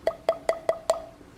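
Palm pipe tapped five times in an even rhythm, each a short hollow pop with a clear tonal ring, close and fairly soft, alone with no talk.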